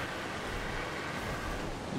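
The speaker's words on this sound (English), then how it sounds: "So I see these waterfalls" A waterfall in the video game Ark gives off a steady, even rushing roar of falling water with no break or talk.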